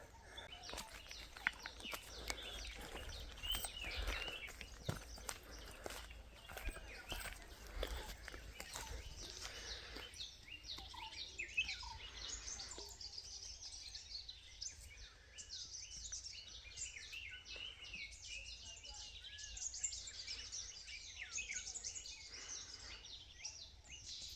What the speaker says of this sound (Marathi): सकाळची वेळ आहे आणि रान पूर्ण बोलतोय, म्हणजे पक्षी बिक्षी आता वडायला लागले